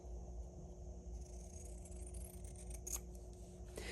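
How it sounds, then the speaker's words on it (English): Pinking shears, the sharpest scissors on hand, slice steadily along a drawn line through fabric, a close continuous rasping crunch with a few sharper snips near the end over a low steady hum. "So I'm just using pinking shears. They're my sharpest scissors"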